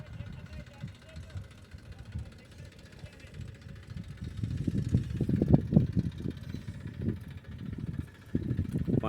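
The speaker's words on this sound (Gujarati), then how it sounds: "મોટા ટ્રેક્ટરથી ચાલુ કર્યું મિત્રો" A large tractor engine chugs steadily nearby with a low, throbbing rumble during field sowing, while a person talks over it.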